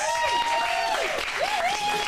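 An audience applauds a stand-up comedian walking onstage at an acting studio showcase in Phoenix, a steady wash of clapping over two seconds with a sustained tone and sliding pitch sounds running through it.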